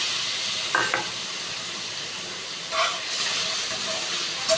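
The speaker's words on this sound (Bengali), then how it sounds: "চিংড়িটা ভেজে নিচ্ছি।" Prawns frying in a wok, a steady close hiss of sizzling oil with a couple of brief stirring scrapes, no talking.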